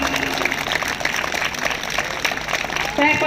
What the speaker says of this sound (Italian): Brava, l'applauso.